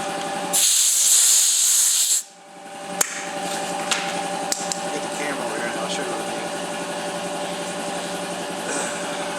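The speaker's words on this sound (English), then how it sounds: "Sorry about the air compressor" Air compressor hissing loudly in a workshop during a car seat repair, a sharp steady hiss for about two seconds that cuts off, followed by a running mechanical hum and a few light knocks, with voices in the background.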